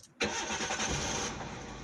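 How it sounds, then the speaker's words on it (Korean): A car engine cranks and catches during a driver's licence course test, starting abruptly and settling into a steady, close idle. "5초 내에 엔진 시동을 거세요."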